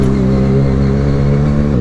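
Steady, loud exhaust drone from a Benelli TNT 300 motorcycle engine held at revs nearby, with a brief dip and recovery near the end and no talking.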